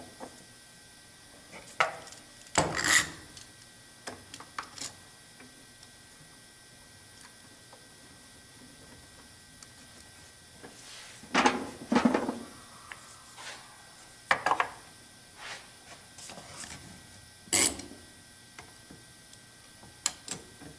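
Clamps are fitted onto wooden table legs during a glue-up, giving scattered knocks, clicks and wooden taps, some louder clusters and several isolated ticks, irregularly spaced in a quiet workshop.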